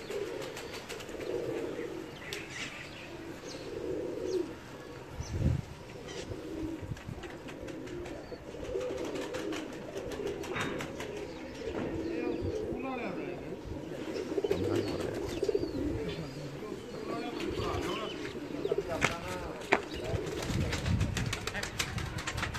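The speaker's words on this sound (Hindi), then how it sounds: "ये लालपरी कबूतर है मियाँ साहब वाले।" Lal Pari pigeons cooing steadily at close range, with soft repeated coos under continuous nearby talk and occasional wing or handling noise.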